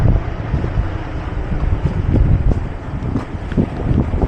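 Strong wind roars across an outdoor residential construction jobsite where precast concrete pieces are stacked, a loud continuous buffeting rush on the microphone with gusty low rumble and no speech.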